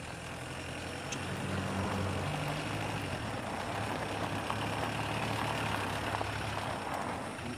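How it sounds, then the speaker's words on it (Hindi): Vehicle engine idling as it pulls up, a steady low rumble with a droning hum, moderately loud and constant, with no voices. "दुष्यंत सिंह की गाड़ी लग रही है।"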